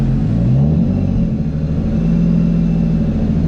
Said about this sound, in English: So it's idling pretty lean right there.